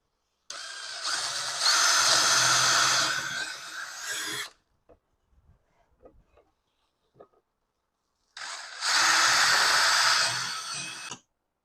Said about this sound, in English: Now it's time to pre-drill the holes to fasten the sides down to the base.